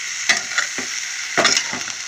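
Chopped vegetable pieces dropped into a hot tempering of spices in oil, giving a loud, close sizzle with repeated bursts as they are stirred and tossed.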